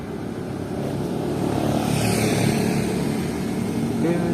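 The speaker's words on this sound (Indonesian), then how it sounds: "tadi ada motor lewat" A motorcycle passes by on a street, its engine hum rising to a broad steady roar through the middle and staying loud throughout, mixed with outdoor background noise.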